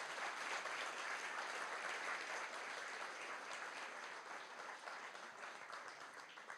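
A dense, steady round of applause from an opening-night crowd at a cartoon art festival, honouring the cartoonist Martin Rowson. It stays soft and somewhat distant, sustained the whole time and tapering slightly at the end.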